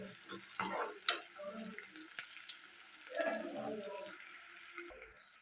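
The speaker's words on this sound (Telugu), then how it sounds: "ఉల్లిపాయలు అయితే ఇలా ఫ్రై అవుతున్నాయి కదండి" Onions and crushed garlic frying in a pan, a faint close sizzle with scattered stirring scrapes and clinks, fairly quiet and uneven, with no talk.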